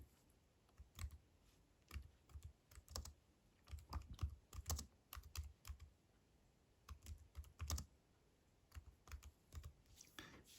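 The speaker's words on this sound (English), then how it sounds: "So I'm going to type in here," Soft, quiet keyboard typing comes in uneven clusters of clicks with short pauses between words, close to the microphone against a faint background hiss, with no talking.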